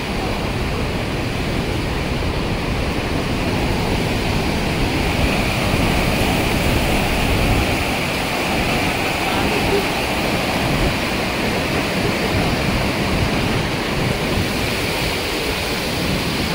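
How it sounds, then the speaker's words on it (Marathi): Water pours steadily down a waterfall at Randha Falls in Bhandardara, producing a loud, continuous broadband roar with gusty wind buffeting the microphone throughout. "इकडं सुद्धा एक फॉल तयार झालाय, हा जो आहे इकडून पूर्ण खाली पाणी वाहत चाललंय"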